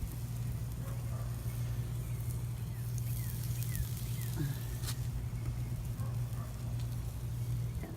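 Meat searing on a charcoal grill set up for smoking with the snake method, a steady close sizzle and crackle running throughout with a low hum underneath.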